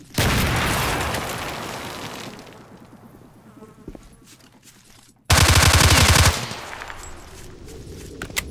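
Loud bursts of rapid automatic gunfire with a heavy boom, fading into quieter rumble, then another sustained burst of fire; combat sounds from S.T.A.L.K.E.R. Shadow of Chernobyl with the Autumn Aurora 2 mod, without talk.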